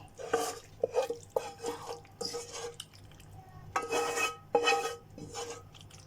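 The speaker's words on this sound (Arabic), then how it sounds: "هننزل بيه على المكرونه مع قطع الفراخ كله مع بعضه، وهقلبه مع بعضه" Pasta and chicken pieces are stirred together in a baking tray for negresco. Close, irregular clinks and scrapes of a utensil come in bursts, with soft wet squelches between them. No one speaks.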